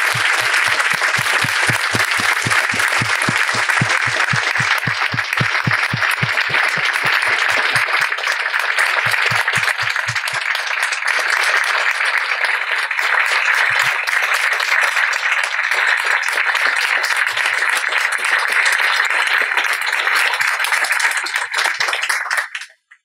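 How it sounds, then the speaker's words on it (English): Audience applause after a talk about solitary confinement: dense, loud clapping that carries on for over twenty seconds, rhythmic at first, then steady and abruptly cut off at the end. "Why don't we give another round of applause for Albert Woodfox?"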